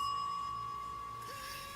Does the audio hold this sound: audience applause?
no